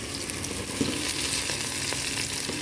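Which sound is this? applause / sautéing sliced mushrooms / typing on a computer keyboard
sautéing sliced mushrooms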